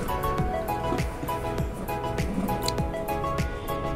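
Chicken pieces mixed with jackfruit seeds being kneaded by hand in a bowl, making repeated wet squishing and squelching sounds in a steady rhythm, close up, with no voices.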